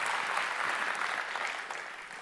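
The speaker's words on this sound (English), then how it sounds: "Can we give them a round of applause?" A church audience applauds in a dense, even wash of many hands clapping together, sustained and fairly loud, fading slightly near the end.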